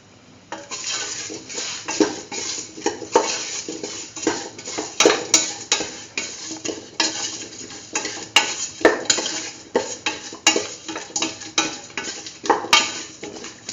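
Spoon stirring curried beetroot, mung beans and rice in a pot, with steady scraping and clinking of metal against the pot in an uneven rhythm, close and moderately loud, with no talking.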